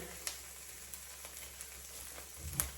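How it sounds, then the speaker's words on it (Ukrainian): Quiet, steady sizzle of meat frying in a pan, with a few soft clicks and taps of utensils. "Зараз вовику жарю"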